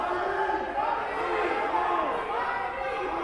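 A crowd at a school wrestling match between Braintree and Framingham fills the gym with a continuous, moderately loud murmur of voices and shouts, with a commentator talking over it.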